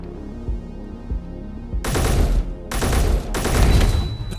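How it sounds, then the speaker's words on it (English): A rocket turret in a survival video game fires at close range in three heavy, rapid bursts after a quieter stretch of low rumbling and thuds, with no voices over it. "Something's shooting at me. I don't know what. There it is. We got a rocket turret."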